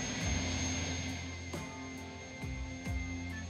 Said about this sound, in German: Und da kommen jetzt hier unsere schnellen Motorboote drauf.